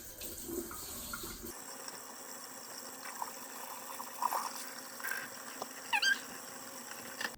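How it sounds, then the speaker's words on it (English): Water trickles softly from a tap into a sink, faint and steady, with a few light splashes and clinks as a tie-dyed shirt is rinsed in cold water. "rinse this out with cold water"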